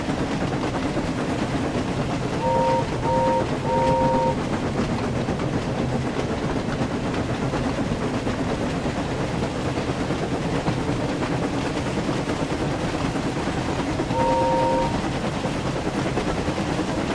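Train cars in a Thomas and Friends video game rumble along on the rails, a continuous rolling drone with a few brief tonal chimes layered on top, with no voices.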